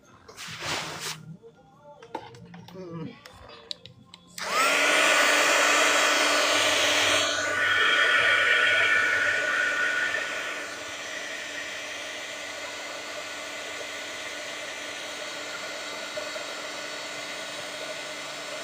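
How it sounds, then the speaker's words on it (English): A heat gun drying a craft leaf switches on with a loud, steady blowing roar after some brief handling clatter, then settles to a slightly lower, constant hum that runs to the end. "I'm going to go ahead and dry that leaf. If I can find my heat gun."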